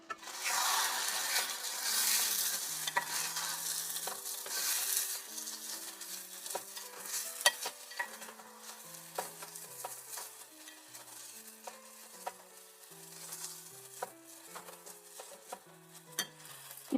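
Chicken pieces with salt and turmeric are stirred in a pan for Andhra curry leaf chicken, repeated scraping strokes and metal clinks over a soft sizzle that starts louder and fades slightly.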